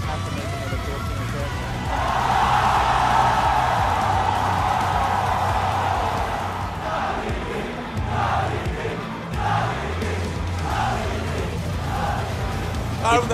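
A large crowd at the REV Major 2019 Tekken fighting-game tournament cheers loudly and continuously, swelling to a roar and then breaking into rhythmic bursts of shouting.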